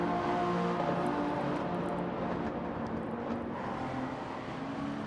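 Toyota Supra in Gran Turismo 7 on a drag run down a short straight, engine droning and building under a steady wash of road and wind noise, moderately loud.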